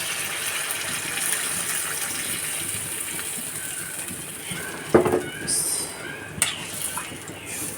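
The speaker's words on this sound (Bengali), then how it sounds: "এই পর্যায়ে আমরা ঝোল অ্যাড করে দেব।" Broth is poured into a pot of cooking chicken gizzards, liver and mung dal. A steady, close gush of liquid runs for several seconds, followed by a few clinks and a soft voice.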